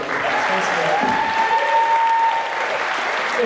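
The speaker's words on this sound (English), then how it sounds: "Let's give him one more round of applause." Steady audience applause fills the whole stretch at a school music event, dense and even, with faint voices mixed in underneath.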